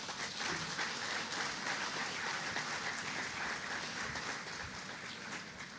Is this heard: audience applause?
yes